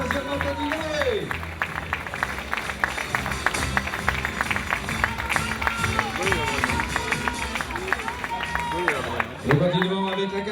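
An audience at a 2013 OFAC prize-giving ceremony in France applauds the winners with sustained, dense clapping, while an announcer speaks over a loudspeaker.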